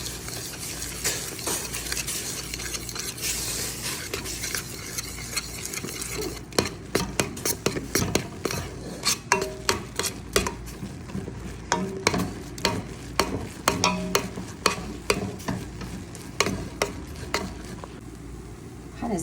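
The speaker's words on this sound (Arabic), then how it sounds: "وابتدي أقلب" Flour mixture being stirred in a pot with a utensil for a simple eggless fried dough dessert, giving repeated scraping and clinking strokes that grow busier and more rhythmic partway through, close and alone.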